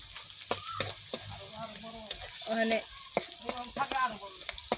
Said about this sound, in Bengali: ওখানে আমার পেঁয়াজটি ভাজা হয়ে গেছে গা।